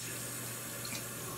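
Water runs steadily from a bathroom tap to wet a face brush in a nighttime skincare routine, a constant close rushing hiss with no pauses.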